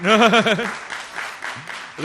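An audience applauds a speaker at a talk on social development and AI agents; a short spoken phrase opens the moment, then soft clapping patters underneath.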